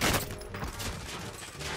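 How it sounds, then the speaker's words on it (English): Sniper gunfire in the Warzone battle royale video game: a dense, rumbling spray of gunshots and echoing cracks at moderate level, heard without talking. "Oh, we're getting sniped at!"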